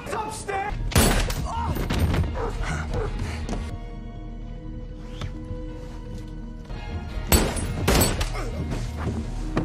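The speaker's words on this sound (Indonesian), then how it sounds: "baku tembak pun terjadi" Bursts of gunfire and sharp impacts crash in two loud clusters, separated by a quieter stretch with a lingering musical tone.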